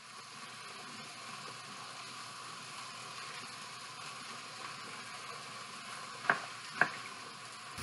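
Chicken tenders, not fully thawed, sizzle in a pan with a steady, soft crackle throughout, interrupted near the end by two sharp clinks, likely a lid or utensil.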